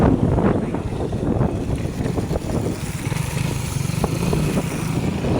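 A street motorcycle named Bayabas on a long road trip to San Pablo, its steady engine drone mixed with heavy wind rush across the microphone, continuous and loud throughout.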